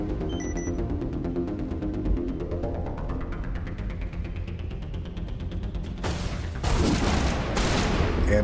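Sustained rapid gunfire in the Mass Effect video game, a dense continuous fusillade with a rising hum building underneath and louder bursts near the end.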